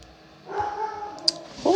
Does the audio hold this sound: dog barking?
yes